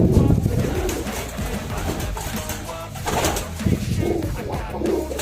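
Pigeons coo in low, throaty, rolling calls that repeat through a busy, noisy outdoor setting, close and fairly loud, with faint voices in the background.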